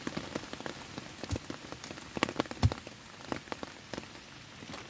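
Rain patters in a forest, its steady drops tapping nearby surfaces at close range with irregular louder hits, and no voices are heard.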